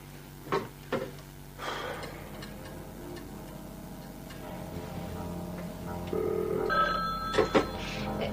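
A 1970s telephone rings in a quiet room, its bell sounding in a few short bursts among low room noise and small clicks, with no talking.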